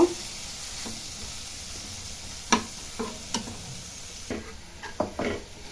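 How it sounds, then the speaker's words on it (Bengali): Spices for Yippee noodles sizzle faintly in a pan while a utensil scrapes and taps against it several times, with sharp, irregular strikes over the quiet frying. "এই মশলাগুলো সব পুরা একটু, তারপরে এগুলো ভালোভাবে একটু মিশিয়ে নেব"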